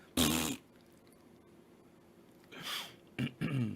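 A person imitates a fart with their mouth, giving three short, raspy, buzzing blasts: one near the start and two close together at the end, with quiet between them.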